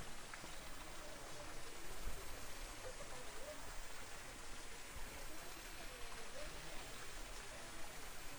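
Several small waterfalls splash steadily into koi-filled ponds in a Kamakura temple garden, a dense, even rush of falling water that stays constant throughout and is heard without talk.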